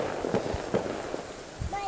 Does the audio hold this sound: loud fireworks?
yes